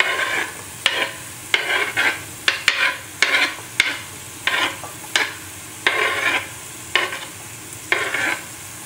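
Vegetables with carrots and French beans being stirred in a frying pot for Goan pork stew, about ten rhythmic scraping strokes with a sizzle underneath, close and fairly loud, no talk.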